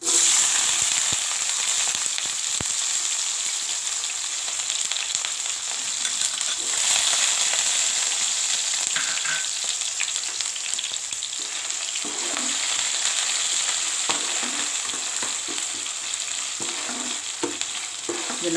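Onions and cumin seeds frying in a few spoons of oil for a homestyle bitter gourd curry give a steady, close sizzle with occasional stirring scrapes and small crackles throughout.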